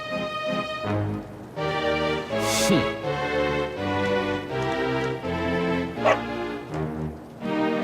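A dog barks and yips in Dragon Quest XI, a few close, sharp bursts over busy game music with no talking.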